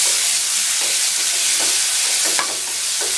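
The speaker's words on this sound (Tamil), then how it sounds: "நல்லா ரோஸ்ட் பண்ணி எடுத்துடலாம். மீடியம் ஃப்ளேமில் வச்சா போதும்." Ingredients roast in a pan over a medium flame for a ladies finger poriyal, with a steady sizzle and occasional scraping stirs, close and loud, no voices.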